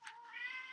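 A cat gives a single short meow, clear and fairly close, with no other sounds.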